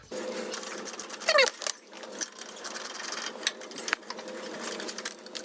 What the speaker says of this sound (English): you're gonna gun this off with the socket, top and bottom